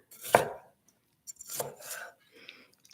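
A knife chops broccoli on a cutting board in a few separate bursts of crisp cutting with short quiet gaps, close up and alone.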